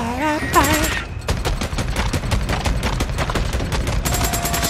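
Dense, loud rapid-fire gunfire in the video game Days Gone, with bursts of shots rattling through a horde fight and a short voiced exclamation near the start.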